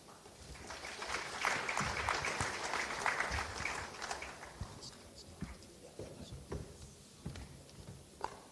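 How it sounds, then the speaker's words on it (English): Applause for the panelists and moderator at the Invest Sri Lanka Capital Market Forum 2025, a broad crowd clapping that swells loudest early, then thins to scattered claps, with background voices and footsteps. "can we have a bigger round of applause to our panelists and the moderator"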